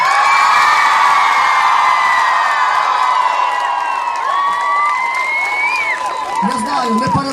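Loud concert crowd in Olevsk cheering, whooping and shouting for the band, a dense sustained roar of voices with high yells rising above it throughout.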